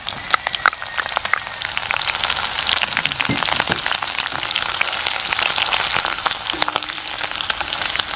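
Chopped green chillies frying in sesame oil with garlic for a Kerala-style fish pickle, a loud constant sizzle full of crackles and spits, close up, with a faint brief tonal hum late on.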